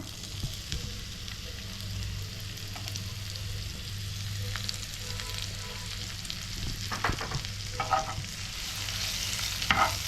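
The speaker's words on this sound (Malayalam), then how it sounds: "ഇനി നമുക്ക് അതിലോട്ട് ചെറുതായി അരിഞ്ഞു വെച്ചിരിക്കുന്ന ചെറുള്ളി ഇടാം" Chopped shallots frying in hot oil in a pan, a steady close sizzle with occasional stirring scrapes and crackles growing busier toward the end.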